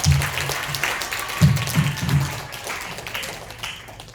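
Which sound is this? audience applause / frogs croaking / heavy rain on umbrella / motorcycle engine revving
audience applause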